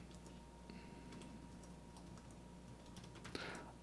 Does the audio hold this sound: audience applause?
no